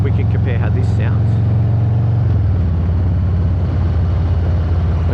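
A motorcycle engine drones steadily on a motorway, heard from inside a helmet with the visor closed, its low hum dropping slightly in pitch partway through under a muffled wash of wind.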